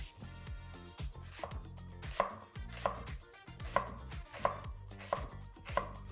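A knife chops an onion straight down on a cutting board for a kidney bean curry, a run of close, crisp, evenly spaced thuds at a steady pace.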